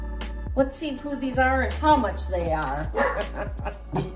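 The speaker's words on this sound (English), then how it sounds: "Excuse the dogs barking." Dogs barking and yipping indoors in the background, several sharp barks and whimpering yelps scattered throughout while someone talks over them.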